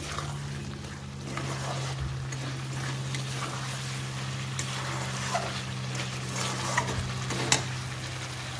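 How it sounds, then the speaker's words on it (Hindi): Chicken frying in a pan while being stirred: a steady close sizzle with scraping and clinking stir strokes, a low hum running underneath throughout. "बहुत ही अच्छे से हम फ्राई कर रहे हैं"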